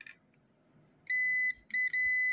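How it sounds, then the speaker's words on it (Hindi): A multimeter on continuity mode beeps as its probes touch a shorted line on a Tata EDC17C55 ECM board: a steady high-pitched tone that stops briefly and returns twice, loud and close against a quiet room. "अभी बीप आ रही है"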